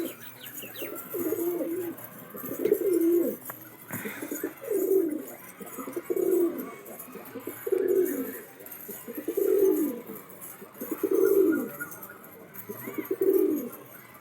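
Pet pigeons, including fantails, coo in a repeated rhythmic series of low throaty calls, close and clear, about one every second or so, with faint background chirps and no talk.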